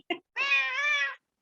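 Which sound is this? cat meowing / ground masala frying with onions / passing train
cat meowing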